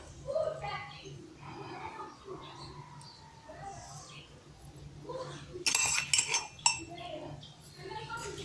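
Spoon clinking against a cup while milk and sugar are stirred in, a cluster of bright metallic taps in the latter half over faint room noise.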